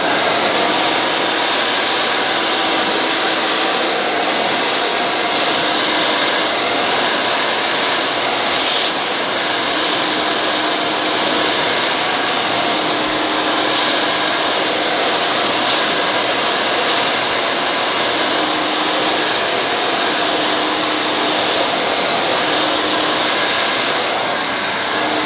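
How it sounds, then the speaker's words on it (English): A hair dryer blows hot air while drying hair, a loud, continuous whooshing roar that stays steady and close the whole time, with no talking. "After I finish blow drying with hot air, I cool it down with cold air"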